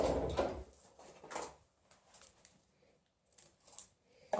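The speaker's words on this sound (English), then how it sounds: "I got 2 little mustard packets that I'm going to cut open." Scissors snip open small packets of Chinese mustard in a home kitchen, giving a few short crisp cuts with quieter rustling and pauses in between, fairly close and with no talking.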